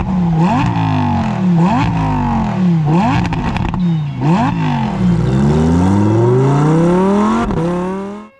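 A Lamborghini Huracan EVO engine revving hard, with repeated sharp rising and falling blips, then a long climbing pull through the gears, loud and close, with no talking.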